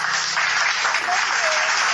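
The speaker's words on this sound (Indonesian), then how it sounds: "Kita berikan tepuk tangan dulu sama Yuni." A small group claps and cheers for Yuni during a lively debate, a brief dense burst of applause with voices mixed in.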